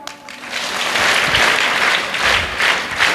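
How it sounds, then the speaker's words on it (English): A school audience at a student council investiture ceremony breaks into sustained applause, a full, even roar of clapping with a few louder swells, no talking over it. "This is the way you clap in this school, right?"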